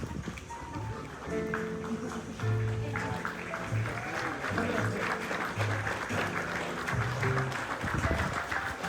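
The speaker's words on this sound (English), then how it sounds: "Huge round of applause for Nikesha." Wedding guests clapping during a ceremony, steady sustained applause with chanting and music continuing underneath, moderately loud and spread through the room.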